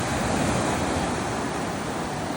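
Choppy Black Sea waves break on the shore at Kurortne in Odesa Oblast, a steady, loud roar of surf and wind noise with no pauses or voices.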